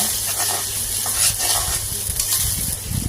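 Chicken with onion, ginger paste and garlic paste fries in hot oil, giving a steady, close sizzle throughout, with stirring scrapes and clatter rising toward the end.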